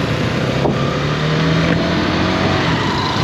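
A Hero Karizma XMR 210 motorcycle pulls away in first gear, its engine a steady, close hum with a faint rise in pitch and no speech over it.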